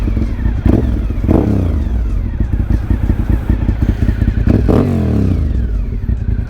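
A Honda RC51 motorcycle engine idles with a throaty, uneven rumble and is revved up several times in short bursts, loud and close.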